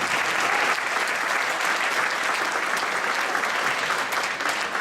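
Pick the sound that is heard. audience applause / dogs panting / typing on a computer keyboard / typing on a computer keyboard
audience applause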